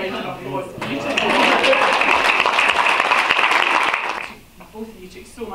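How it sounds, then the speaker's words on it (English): A wedding audience breaks into warm applause, swelling quickly and holding full and loud for a few seconds before fading out, with talk resuming faintly at the end. "I think a round of applause."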